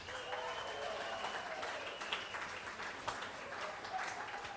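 Wedding guests applaud the bride and groom at a reception, a steady wash of clapping sustained for several seconds with a few sharper claps standing out and a murmur of voices mixed in.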